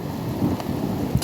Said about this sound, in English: you can hear that thunder